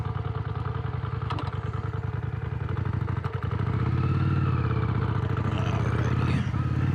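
A Yamaha Virago 535 five-speed motorcycle rides along, its engine chugging steadily up close with a rhythmic pulse, then rising and droning louder as it picks up speed.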